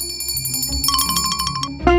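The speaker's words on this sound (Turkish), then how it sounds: "zili çalmayı kes buradayım" A doorbell rings with bright, repeated metallic chimes in quick succession, close and loud, ending in a final louder tone.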